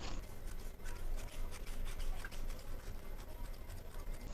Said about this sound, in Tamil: 1/4 இன்ச் விட்டு நம்ம அப்படியே கட் பண்ணிக்கலாம்.